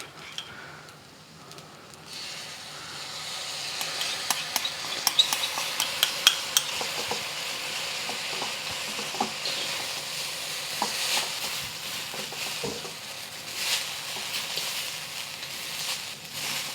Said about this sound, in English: Lo mein just means mixing the noodles around.